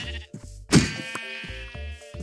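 Bleating from a Minecraft goat in a survival game, heard as several short, nasal calls with a stronger burst in the middle, over soft looping game music and with no talking.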